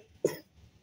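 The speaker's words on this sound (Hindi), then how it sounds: "इसको बहुत ज़्यादा खांसी हो रही है।" A child gives one short, sharp cough close by, alone against a quiet indoor background.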